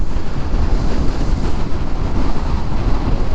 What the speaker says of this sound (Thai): โอ้ลมแรงครับลมแรง